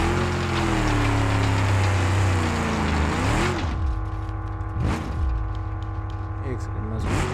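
A Mercedes G-Wagon with a V12 engine in BeamNG Drive labours off-road up a steep incline, its engine droning steadily and loudly with rising and falling revs, a voice talking over it throughout.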